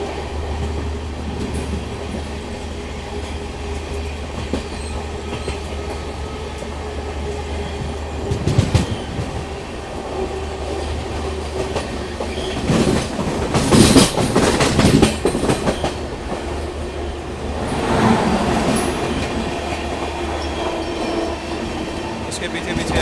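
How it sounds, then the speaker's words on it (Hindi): A Vande Bharat Express passes on an Indian railway line, its rolling rumble and rhythmic wheel clatter swelling loud at close range with bursts of rattling before easing off. "सामने से आने वाली ट्रेन नंबर 22435 वाराणसी नई दिल्ली वंदे भारत एक्सप्रेस"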